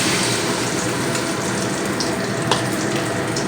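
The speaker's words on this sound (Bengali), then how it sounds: "এবার আমি দিয়ে দেবো পরিমাণ মতন জল দিয়ে দেবে" Water poured into a vegetable curry of pumpkin, potato and Malabar spinach stems in a cooking pot, a steady loud rushing splash running without a break.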